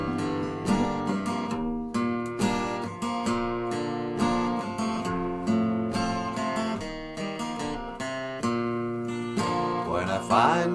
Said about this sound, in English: here's the guitar with a pick, and it sounds something like this.